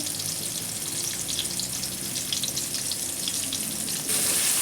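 Chopped tomato with ginger, cumin paste, turmeric, red chilli powder, dried chillies and salt sizzles loudly in a hot pan, a dense, steady frying hiss with faint stirring, close by throughout.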